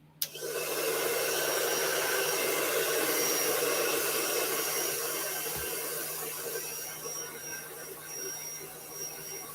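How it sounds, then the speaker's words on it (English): A blow dryer runs steadily to dry a fresh layer of white paint on a painting, starting abruptly and holding a loud, continuous whirring rush for the whole stretch, easing only slightly toward the end. "I'm going to take my blow dryer to this really quickly."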